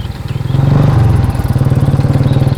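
A motorbike running on kerosene idles and revs nearby, its engine giving a loud, steady pulsing putter with a slight clattering edge.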